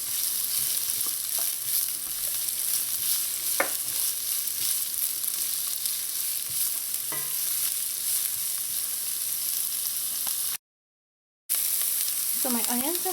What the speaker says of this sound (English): When your oil is hot, add in your onions. You want to let the onions saute.